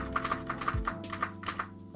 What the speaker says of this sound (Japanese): キーボードの左右のカーソルを使って1フレームずつ調整することができます。